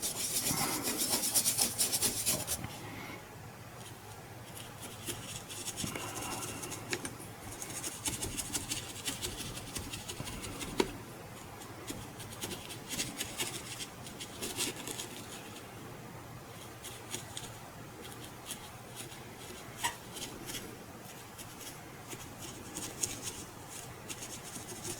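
A brush scrubs plaster weathering mix onto a diorama stone surface, giving a continuous close scratchy rubbing with uneven strokes and occasional small taps, no voices.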